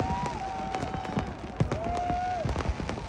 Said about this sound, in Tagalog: Meron din silang malaking fireworks display sa finale nila.